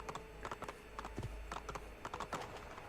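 Hooves clip-clop in quick rhythmic clusters as a horse gallops in Assassin's Creed II, faint and evenly paced over a low steady hum, with no talk.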